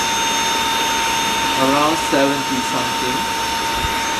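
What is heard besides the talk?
vacuum cleaner running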